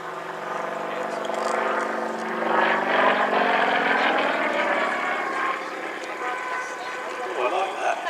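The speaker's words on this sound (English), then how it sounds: "The Denny of 360 horsepower radial engine up front and the 3-blade MT propeller." A vintage aircraft with a 360 hp radial engine and a three-blade MT propeller drones steadily at an airshow, loud and sustained throughout with slight swells, while a commentator talks over it.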